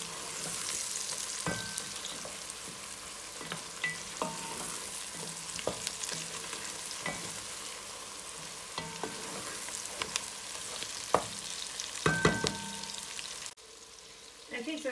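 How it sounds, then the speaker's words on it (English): Tomatoes sizzle and crackle in a hot pan, a steady frying hiss with scattered pops and occasional utensil clicks, close by, fading out near the end. "after about 5 minutes of frying the tomatoes"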